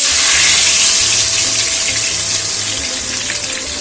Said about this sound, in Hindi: उसके बाद हम ये कुकिंग ऑयल में कढ़ाई में डाल रहे हैं